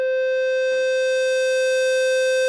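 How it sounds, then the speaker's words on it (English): A synthesizer oscillator holds a single steady, buzzy tone rich in overtones, shaped between sine and square waveforms; it sounds loud and constant throughout, with only a tiny click near the start. "from this sine wave I can morph the sine wave into like a sawtooth spectre"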